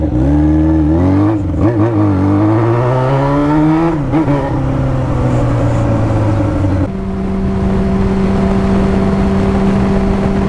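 A Yamaha FZ6 Fazer 600 motorcycle with open, straight-pipe exhaust revs loudly up and down repeatedly, then settles into a rough, rumbling idle.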